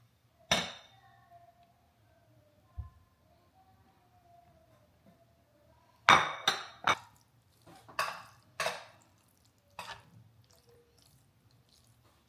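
Egg and avocado sandwich filling with parsley being mixed in a bowl: scattered utensil clinks and soft squishy scrapes come in separate bursts, quiet between strokes, with a cluster of quick knocks near the middle.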